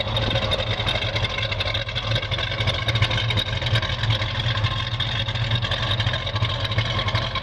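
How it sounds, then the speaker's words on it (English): A deep, steady V8 idle from a 1970 Chevrolet Camaro Z28 rumbles continuously with a low throbbing exhaust note, close and even throughout, with no voices. "Got a nice exhaust note."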